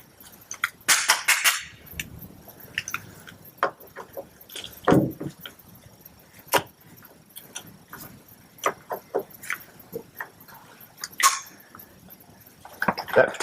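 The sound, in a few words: rivet gun setting rivets in an aluminium boat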